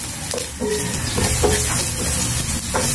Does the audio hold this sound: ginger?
yes